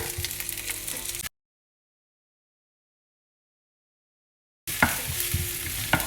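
Onions, red onions and garlic fry and sizzle in a pan with some stirring, heard in two short bursts separated by about three seconds of complete silence; no one speaks.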